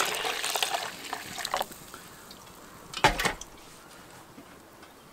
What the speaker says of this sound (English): Gonna add some liquid now, water.